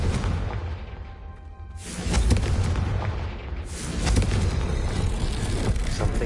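A Confringo spell explodes in a Harry Potter video game, a loud, dense burst of booming blasts and rumbling debris that swells again midway and continues to the end.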